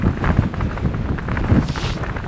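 Storm force wind on the summit of Pen-y-ghent, gusting at about 67 miles an hour, buffets the microphone in a loud, continuous roar with rough, uneven surges.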